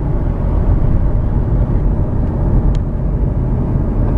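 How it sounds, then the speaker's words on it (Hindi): Steady, loud low road and engine drone inside a Tata Altroz cruising in fifth gear on cruise control, an unbroken even rumble with no talking. "5th गियर पे है गाड़ी"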